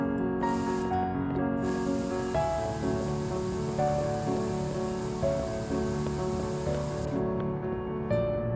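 An aerosol spray can hisses in long steady bursts, with a short burst, a pause, then one sustained spray of several seconds over music playing throughout.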